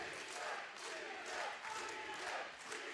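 A wrestling crowd in Rock Hill roars and cheers continuously, swelling in waves, at a moderate level with no speech over it.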